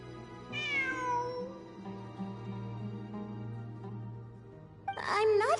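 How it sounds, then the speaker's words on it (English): A cat meows close by: first a long, drawn-out falling cry, then a second shorter, louder meow after a pause, over a steady low background hum. "It really is a cat."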